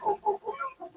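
Black chickens cluck close by in a short run of soft, rhythmic clucks, about six calls in quick succession with no talking.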